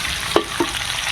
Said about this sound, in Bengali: এই যে আলু ভাজা।